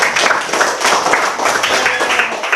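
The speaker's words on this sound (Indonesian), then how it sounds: "Kasih tepuk tangan dosennya." A group claps for a lecturer at the end of a lesson, a bright, continuous patter of many hands that stays loud and even for a few seconds, with no talking over it.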